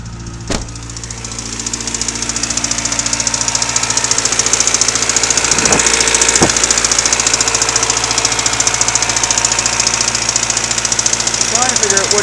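A Honda Integra engine idles steadily with a rapid, even ticking valve noise running throughout, close and loud, with a few brief knocks and some faint talking near the end.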